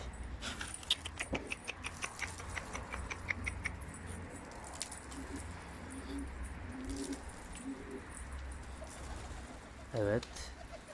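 Young Bahri pigeons coo and flutter softly among rapid clicking, jangling patters, with a faint voice talking and a brief louder call near the end.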